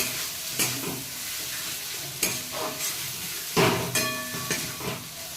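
Masala with Kashmiri chilli, turmeric and salt frying in a pan, a steady sizzle broken by repeated scraping stirs of a utensil, close and fairly loud with no talk.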